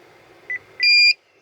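A 2014 Buick Enclave key fob gives a short chirp followed by a louder, longer electronic beep during programming, close and clear in a quiet setting.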